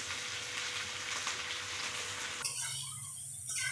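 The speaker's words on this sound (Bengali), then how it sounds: "যে জন্য আমি সবগুলো একসাথে ফ্রাই করে নেব" A mix of vegetables for fried rice and banda gobi fries together in a pan, giving a soft, steady sizzle like light rain that suddenly drops in level partway through and continues faintly.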